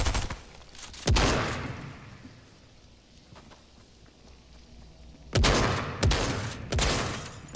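Video-game gunfire: one sharp loud shot early, then a quieter lull, followed by three more close, punchy shots near the end.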